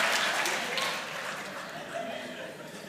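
Audience applause at a Hindi talk: a dense, steady wash of many hands clapping, loud at first and easing slightly toward the end, with crowd noise mixed in.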